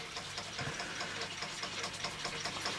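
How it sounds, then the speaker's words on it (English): A vintage Bing-Wolf model steam engine runs under its own steam, giving a steady, fast mechanical chuffing and rattling with a hissing wash throughout, close and continuous, with no voices. "Well, there you go, Charlie, definitely running under its own steam."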